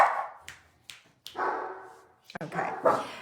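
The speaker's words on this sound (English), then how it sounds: "Can you hear my dogs?" Dogs indoors barking excitedly in several sharp bursts and yips, close and loud, mixed with someone talking between the barks.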